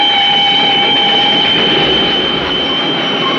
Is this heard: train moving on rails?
yes